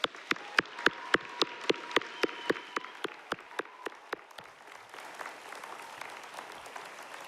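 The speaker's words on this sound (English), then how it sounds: "Please give them all and yourselves a heart round of applause" Audience applause at a graduation ceremony for master's graduates opens with a run of sharp, evenly spaced claps close by, then softens into a fainter, more diffuse wash of clapping from the wider crowd.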